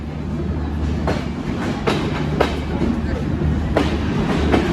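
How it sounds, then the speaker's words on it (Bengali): Kapotaksha Express pulling out of Jessore junction at speed, heard from inside near an open door: a steady loud rumble of wheels on rails with regular clacks of rail joints and wind roar throughout. "প্রচণ্ড স্পিডের সাথে আমরা যশোর রেলওয়ে জাংশন থেকে ডিপার্চার নিচ্ছি"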